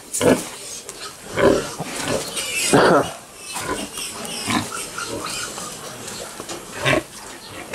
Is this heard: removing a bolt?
no